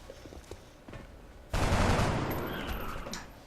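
Gunfire in the turn-based strategy game XCOM Long War: a sudden loud burst of shots that rolls into a sustained, slowly fading roar, following a quieter stretch of game ambience, with no talking.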